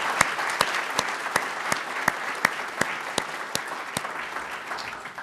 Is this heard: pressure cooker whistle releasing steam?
no